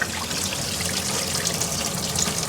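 Engine coolant gushing and splashing out of a 1991 Honda Civic DX as the water pump is pried loose, a steady, loud, close stream of pouring liquid without pause.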